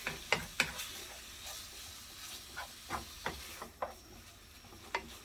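Ground beef cooks in a pan for a spaghetti bolognese, giving a soft steady sizzle broken by a string of short sharp stirring scrapes and clacks, close by with no talk.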